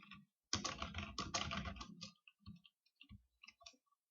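Rapid bursts of typing on a computer keyboard while entering text into a Google Docs table, a dense run of clicking keystrokes followed by scattered lighter taps, close and alone with no talking.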